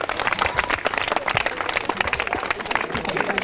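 A school audience at a campus event at Guru Nanak Dev Public School, Jiwan Wala, Faridkot, claps in a steady burst of applause from many hands, fairly loud and sustained.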